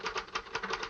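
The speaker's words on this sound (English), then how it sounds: "I'm typing on the back of it." A typewriter clacks in a 1951 drama film scene, a quick run of sharp, evenly spaced key strikes close by and moderately quiet, with no voices.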